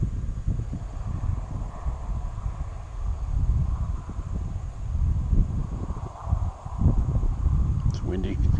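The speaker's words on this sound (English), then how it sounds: "Drone's blowing around in the wind." Gusty wind buffets a drone flying over an orchard, a steady low rumble and roar across the whole stretch, with a faint high motor whine above it.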